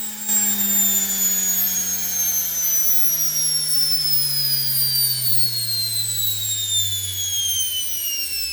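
A washing machine motor spins up under a torque control circuit, giving a steady loud whine with high tones that glide downward as the speed drops, running alone for several seconds without talk.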